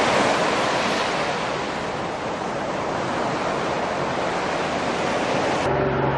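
Sea waves along the Donghae coast walking path in Gangwon-do, a continuous loud wash of surf mixed with wind buffeting the microphone, steady and close, with no voices.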